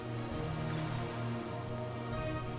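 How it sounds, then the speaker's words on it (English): Rain falling in the video game World of Warcraft, a steady even patter on surfaces with no speech. "We weren't expecting rain."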